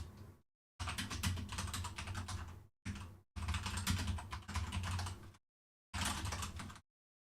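Rapid, close computer keyboard clatter as code is typed out, in several long dense bursts separated by short silent gaps.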